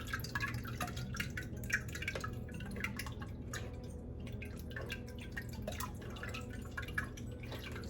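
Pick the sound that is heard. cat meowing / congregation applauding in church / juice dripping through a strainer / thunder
juice dripping through a strainer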